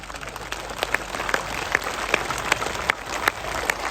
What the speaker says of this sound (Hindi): ये तालियां बजती रहे